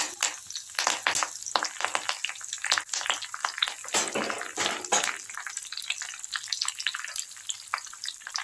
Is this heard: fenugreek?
yes